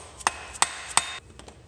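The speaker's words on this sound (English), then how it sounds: "Just gonna get my hammer." Three sharp metallic hammer taps at roughly even intervals as a Jaguar E-Type flywheel is seated onto its engine dowels, close and distinct, followed by a couple of softer knocks.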